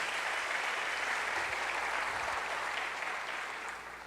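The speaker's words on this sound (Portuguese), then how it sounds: "Você pode dar um aplauso mais uma vez, bem forte a Jesus." A church congregation claps loudly and steadily at a Sunday service, a dense, even wash of applause that holds for about four seconds before tapering slightly at the end, with no voices standing out.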